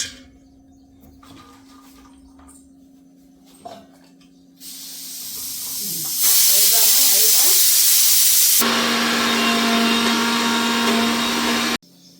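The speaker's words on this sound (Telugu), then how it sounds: "మళ్ళీ పిప్పిని మిక్సీ పట్టి మిక్సీ పడితే పాలు వస్తాయి" A mixer grinder blends coconut pulp again to press out coconut milk, its loud steady whirring motor running for several seconds after quieter kitchen noises and a brief voice.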